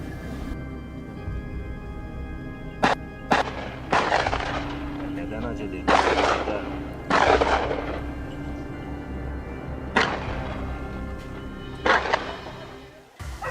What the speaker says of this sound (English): Without hesitation, I raised my gun and pulled the trigger decisively.